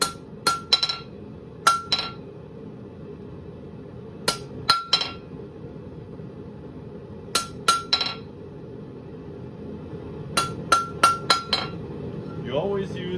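A blacksmith hammers a hot bar straight. Clusters of two to four sharp, ringing metallic strikes come up close, separated by short pauses.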